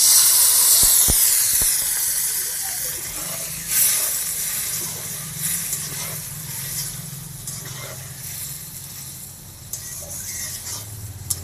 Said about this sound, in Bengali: এবার পনিরটা এর মধ্যে দিয়ে দেবো।